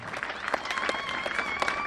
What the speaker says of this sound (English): can we please clap for the graduate?